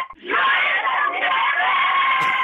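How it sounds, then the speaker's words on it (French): A class of 27 pupils shouts a birthday greeting to their teacher all at once. The loud, sustained chorus of young voices bursts in after a brief quiet moment and holds steady to the end. "Est-ce que tous ensemble, les 27, vous pouvez crier « Joyeux anniversaire Clément », d'accord?"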